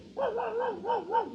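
A dog barks in a short string of four or five quick yips with a wavering, whining tone, fairly close and clear against a quiet background.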